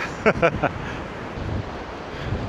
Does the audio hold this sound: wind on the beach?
yes